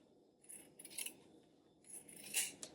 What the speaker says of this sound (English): I cut that off and then cut the other seam edge off